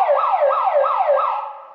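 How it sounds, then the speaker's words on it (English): A DIY camp bear alarm siren sounds four quick, rising whoops in a steady rhythm, loud and close with no talking. "So you put it in the siren mode and you push this button down."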